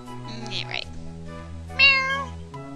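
A cat meows twice in Dragon Quest IX, each a clear tonal call, the second louder and longer, heard close over a steady game music drone.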